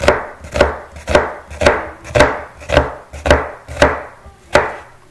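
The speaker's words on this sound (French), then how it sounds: "je vais d'abord faire des tranches comme ça" A knife slicing an onion on a wooden cutting board, about nine crisp, evenly spaced chops landing close and loud with no talk.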